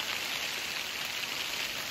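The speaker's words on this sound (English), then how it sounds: "Can you hear that? That's hailstones." Hailstones falling outdoors at night make a dense, steady hiss of tiny impacts, fairly faint and continuous with no talk.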